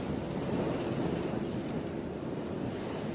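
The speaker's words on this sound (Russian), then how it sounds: "Это ветер, что ли?" Outdoor wind roaring steadily, with a broad, rushing low rumble and buffeting against the microphone, continuous and fairly soft, with no voices.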